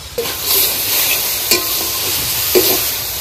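Leafy greens fry in a pan with a continuous soft sizzle, broken by a few sharp stirring scrapes and clinks, close up and without talk.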